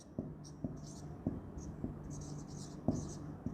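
A marker squeaks and taps across a classroom whiteboard during an organic chemistry lesson, making short strokes in an irregular rhythm, quiet and close, with no talking.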